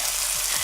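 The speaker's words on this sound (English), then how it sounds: "Ooh, you love that sizzle." Food frying in a hot pan gives a steady, loud, broadband sizzle with no talk over it. The sound runs unbroken through the short clip.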